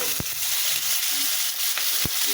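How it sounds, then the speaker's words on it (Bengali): Pieces of boal fish fry together in oil in a wok. The sizzle is close and constant, broken by a few sharp spatters and clicks. "আমি সব কয়টা মাছ একসঙ্গে ভেজে নিলাম"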